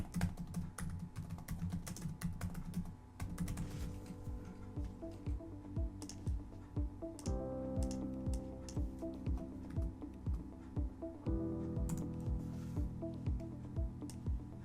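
Keys tapping on a computer keyboard in quick, steady bursts, close and fairly quiet, over a soft background hum with music-like tones.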